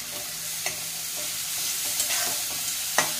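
Finely chopped onion browning in a pan for dal fry, a constant close sizzle with a few scrapes and clicks as it is stirred; no talking.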